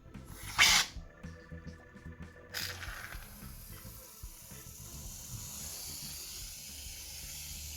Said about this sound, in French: Maintenant, je vais venir ajouter la mousse à raser.